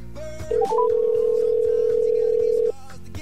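A phone line goes to a steady, loud dial tone after a dropped call, preceded by a few short rising beeps and then holding for about two seconds before cutting off.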